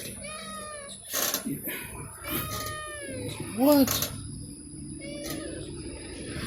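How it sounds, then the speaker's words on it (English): A cat gives several drawn-out meows, one rising and falling, between soft words from a nearby person. "that's a tired meow"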